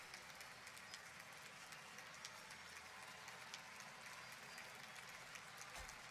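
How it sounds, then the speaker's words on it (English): Steady, faint crowd clapping runs as a continuous wash behind a baseball video game, an even background applause with no distinct individual claps standing out. "Those fans just keep clapping in the back"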